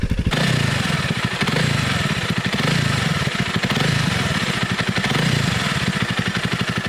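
A motorcycle's piston engine runs steadily nearby, its exhaust firing in rapid, rhythmic pulses with a rough mechanical clatter, holding at an even idle-like speed throughout. No voices.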